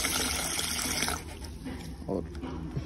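Water running from a tap into a bucket, a close gushing stream that drops to a quieter trickle partway through, with a voice talking over it.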